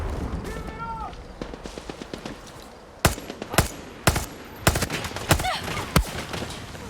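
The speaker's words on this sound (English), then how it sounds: "I hit a headshot on a running target." Gunfire in the video game Far Cry 6: a string of sharp, loud shots, about seven spaced irregularly over the last few seconds, preceded by quieter game ambience and brief tonal effects.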